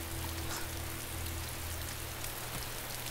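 Rain falls steadily in the survival video game DayZ, a soft, even patter with a low hum beneath and no talk.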